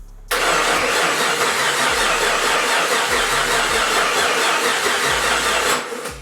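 A car engine cranking steadily on its starter motor after a new battery is connected, a loud continuous churning whir for several seconds that never catches, then stopping.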